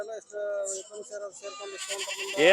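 Sheep at a crowded livestock market in Haveri bleat in a quick run of short, wavering calls at close range, mixed with people talking nearby.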